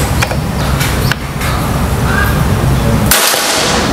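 A single sharp crack from an FX Crown PCP air rifle fired outdoors, loud and close against steady wind and background noise, with no talking.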